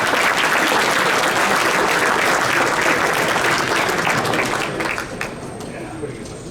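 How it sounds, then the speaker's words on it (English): Sustained applause from an audience at a fraternity Founders Day chapter report and awards event, loud and dense from the start, thinning out toward the end as the clapping fades. "So let's give them another round of applause."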